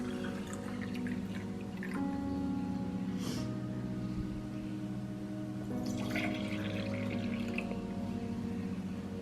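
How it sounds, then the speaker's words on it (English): Water pours into a glass for a Skittles experiment, a steady trickling fill with a rising tone, close and fairly quiet, with a short splashy burst partway through and no talk. "first we need to fill this one with water"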